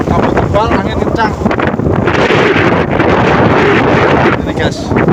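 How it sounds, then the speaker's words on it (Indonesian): Strong wind gusting over a foggy mountain trail on Gunung Butak, loud buffeting roar hitting the microphone continuously, with a person talking briefly in the foreground. "Anginnya kencang sekali."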